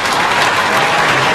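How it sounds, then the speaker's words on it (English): An audience at a community engagement and hazard awareness forum claps steadily, a dense, loud wash of applause with no talking over it. "how about we give these guys a bit of a clap?"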